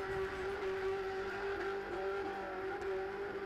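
A race car doing donuts at a speedway gives off a sustained engine drone with a steady high tone and a rough, tire-scrubbing texture at moderate distance.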